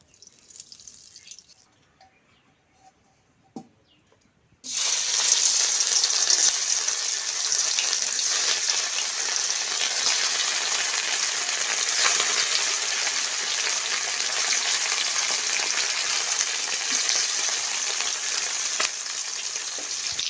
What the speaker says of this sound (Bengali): মাছের 1 পিস ভেজে নিয়েছি, আর এখন আর 1 পিস ভেজে নেব, পলটাই দেবো মাছটা।